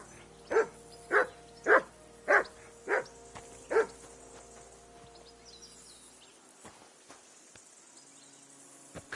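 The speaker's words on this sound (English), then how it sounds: "Henry, call that dog to heel." Six sharp, evenly spaced barks from a dog in the medieval role-playing game Kingdom Come: Deliverance 2, close and loud, then stopping and leaving faint ambient outdoor sound for the rest.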